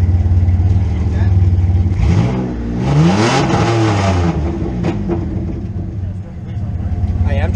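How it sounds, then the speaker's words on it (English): A 1992 Dodge Dakota truck parked in a barn, its engine revved hard a couple of times, rising and falling over a rough idle, loud and close. "give it a couple victory revs for good measure"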